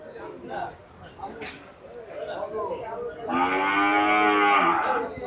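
Cattle at a livestock market in Gabtoli, Dhaka, with a loud, sustained moo filling the last two seconds after people chatting nearby.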